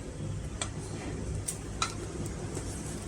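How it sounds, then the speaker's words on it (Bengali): Onion paste and a tablespoon of garlic paste fry together in a pan, giving a steady low sizzle with a few faint scrapes and clicks of stirring across the short stretch. "পেঁয়াজের সাথে 1 টেবিল চামচ রসুন বাটাও দিয়ে দিচ্ছি, একই সাথে দুটোই ফ্রাই হবে।"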